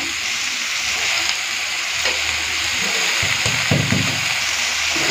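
Potatoes and cabbage fry together in plenty of oil for a dish with katla fish head, making a loud, steady sizzle with stirring scrapes and bumps near the end.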